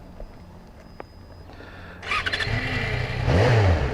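A Yamaha XJ6 Diversion motorcycle starts after quiet clicks: the starter catches, the engine fires into a close, loud idle, then rises in a brief rev.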